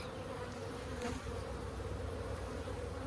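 Honeybees buzzing during a beehive inspection in a bee yard: a dense, steady, close drone of many active bees, with no voices heard.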